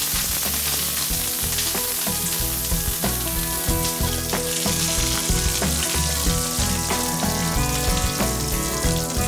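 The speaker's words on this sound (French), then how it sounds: "On fait saisir côté peau, pas de quart gras. Et là, on colore." Goose breast sears skin-side down in a hot pan, a loud, dense, continuous sizzle with crackling fat pops throughout, heard close up without voices.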